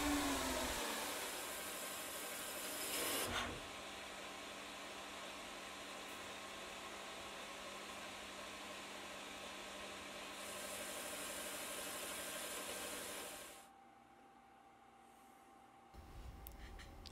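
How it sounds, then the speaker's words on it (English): A CNC milling machine spindle hums and whines as it winds down, a steady mechanical drone that shifts pitch and then drops to a quieter level near the end. "the spindle drive has only a small capacity for absorbing the momentum of the spindle"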